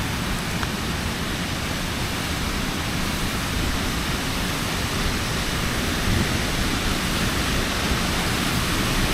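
A waterfall at Ricketts Glen State Park pours in a dense, steady roar of falling water, broad and unbroken, heard fairly close with no voices over it.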